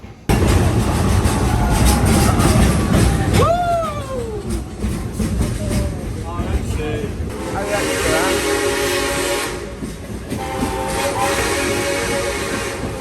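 A small theme park train at Silver Dollar City rumbles along, loud and near, with a drawn-out whistle and hissing steam, and voices mixed into the noise.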